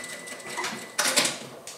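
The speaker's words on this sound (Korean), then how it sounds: "스티치로 끝을 여기를 박아주시는 거예요" A home sewing machine stitching along a seam allowance to close it, a steady whirring run near the listener that grows louder and busier toward the end.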